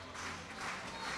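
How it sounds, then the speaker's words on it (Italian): Faint applause from a stadium crowd for the players taking the field at a Spezia versus Sampdoria football match, a soft continuous wash of distant clapping heard only briefly. "Applausi per i 22 in campo"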